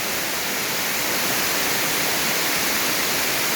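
A waterfall in Karen State roars as a dense, steady rush of falling water, loud and unbroken throughout with no voices.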